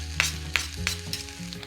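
Two cloves of minced garlic sizzle in a chicken stir-fry pan, a soft steady hiss punctuated by a few sharp clicks and taps as other ingredients go in, with no voices.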